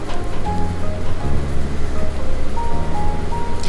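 Hot water is poured from a bowl into a pan of spicy Bengali fish curry. A loud, continuous rushing and splashing sounds close by, with a faint sizzling underneath.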